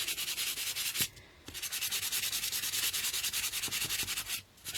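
Steady rhythmic hand sanding of Baltic birch plywood with sandpaper, close and continuous raspy strokes, broken by two short pauses.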